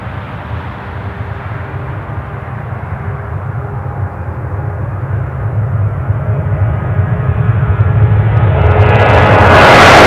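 Jet airliner engines roar at Newcastle International Airport as a plane departs for Faro, a loud broadband rumble steadily building in intensity with a rising high whine near the end, no voices.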